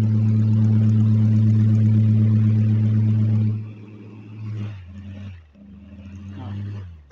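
A small gold electric fan on its second speed gives off a loud, steady hum for about three and a half seconds, then quickly fades to a faint, uneven whir.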